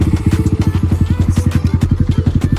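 A Yamaha R15 motorcycle with a modified exhaust idles close and loud, its engine thumping in a fast, even pulse with a rough, popping note throughout.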